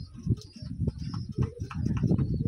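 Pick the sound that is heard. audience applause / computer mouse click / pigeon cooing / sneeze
pigeon cooing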